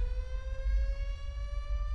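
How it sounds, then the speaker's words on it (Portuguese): A wailing emergency siren sounds during a tsunami in GTA 5, a steady sustained tone that rises slightly in pitch, loud and continuous with no speech over it. "Essa sirene maldita começou a tocar de novo, velho."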